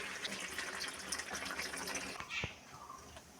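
Water pours into a pan of browned chicken as a close, steady splashing rush that fades out after a couple of seconds, faint overall, with no speech.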